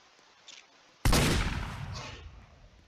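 Gunfire in a first-person shooter video game: a sudden loud burst of shots with a decaying blast tail, preceded by faint game sounds, no talking.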